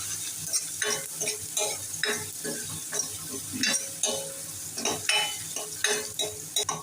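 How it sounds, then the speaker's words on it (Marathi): Chopped onion frying in a pan with cumin, mustard seeds and asafoetida for Kolhapuri misal, a steady close sizzle under repeated rhythmic scraping and clanking of a spatula against the pan. "छान लालसर गुलाबी होईपर्यंत फ्राय करूया"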